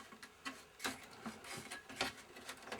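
Screws are being undone on a Kenmark LCD TV during a repair, giving faint, close, irregular ticks and small metallic clicks in a quiet room.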